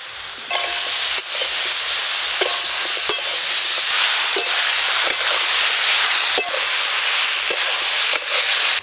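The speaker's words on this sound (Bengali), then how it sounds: "হালকা করে 2-1 বার নেড়ে নিয়েছি" Pond fish curry with ground spice paste, green chili paste and chopped tomato sizzles loudly and steadily in a pan, broken by sharp clicks as a utensil stirs it a few times.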